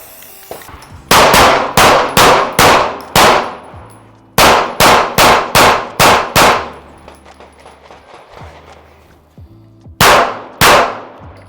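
Rapid bursts of handgun fire at a shooting range, compact Glock 43X, Sig P365XL or Hellcat Pro pistols shot from four or five yards: three quick strings of sharp, loud cracks, five to seven shots each, with short pauses between.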